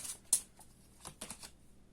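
A tarot deck being shuffled by hand, faint soft riffling and flicking of cards in short uneven bursts, close and quiet.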